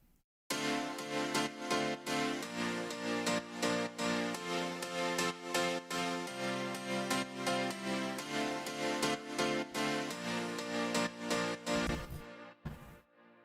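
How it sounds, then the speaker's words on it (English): A very bright, sparkling piano plays repeated rhythmic chords in a steady pattern for several bars, loud and clean with no talking, then cuts off abruptly near the end. "It's very bright piano,"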